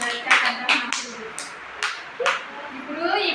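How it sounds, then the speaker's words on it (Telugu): Children at an anganwadi clapping for Arshiya, a series of bursts of hand claps, close and fairly loud, mixed with an adult voice speaking. "క్లాప్స్ కొట్టండి. అర్షియాకి."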